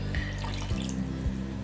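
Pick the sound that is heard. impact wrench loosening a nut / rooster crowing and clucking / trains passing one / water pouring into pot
water pouring into pot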